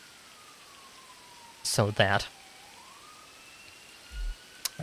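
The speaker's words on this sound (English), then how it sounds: "I believe that's an ambulance. But they're passing by." Far off in a San Andreas roleplay game, an ambulance siren passes as a faint, steady wailing tone over rain. A voice speaks briefly over it.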